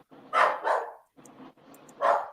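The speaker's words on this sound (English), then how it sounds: "My dog is gonna bark." A dog barks close by in a few sharp, separate bursts: two quick barks, a short pause, then a single bark. No one speaks.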